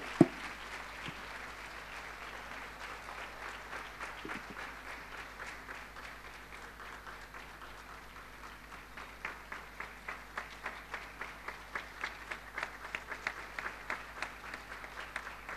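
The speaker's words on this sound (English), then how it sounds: "Let's clap our hands for it." A congregation at a Sunday church service in Pune applauds, a steady wash of many hands that turns into rhythmic clapping in unison toward the end, fairly soft and distant.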